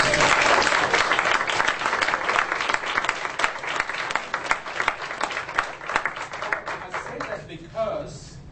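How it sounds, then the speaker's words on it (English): A room of listeners claps loudly for two people, sustained applause with distinct individual claps, tapering off toward the end as a voice begins. "Can we all just give them a big round of applause?"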